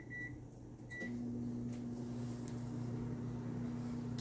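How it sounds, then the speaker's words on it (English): A microwave oven runs with potatoes and onions inside, giving a steady close hum that starts after a faint click about a second in and continues unbroken, with no talking. "let me put potatoes in the microwave."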